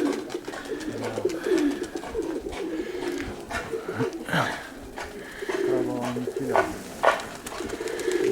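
Nikolaev pigeons cooing in a loft in January, with repeated low throaty coos and some wing rustles running through the clip, close and fairly steady in loudness.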